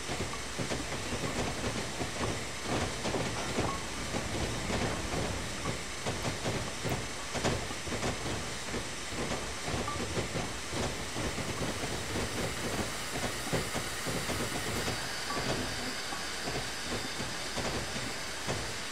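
A steam locomotive pulling goods wagons slows under braking in Train Simulator 2016, giving a steady loud hiss and rumble with faint rhythmic wheel clatter that runs continuously for nearly twenty seconds.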